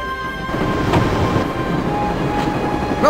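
A train rolls along in the video game Broken Sword II, a loud, close mechanical rumble with rattling wheels and faint metallic squeals, running steadily throughout with no voices.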